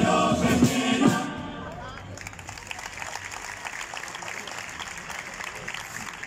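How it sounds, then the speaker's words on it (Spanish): An audience applauds after a live stage performance in 2023. A voice and a loud burst of clapping come first, then the applause settles into dense, steady clapping. "muchísimas gracias por esos aplausos"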